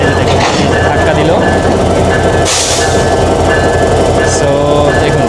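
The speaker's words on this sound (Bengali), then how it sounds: "আপনাদেরকে দেখাই যে বেনাপোলের লোকোমোটিভ কীভাবে লাগায় এখানে।" A locomotive coupling onto train cars at a station near Benapole for the Rupshi Bangla Express: loud steady rumble of rail machinery with a sharp clanking jolt midway and metallic squeals, and a voice speaking nearby.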